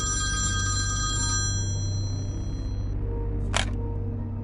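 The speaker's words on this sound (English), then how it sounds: "My phone rang again" A telephone bell rings in a steady trilling burst that fades after a couple of seconds, followed by a brief sharp click, over a constant low hum.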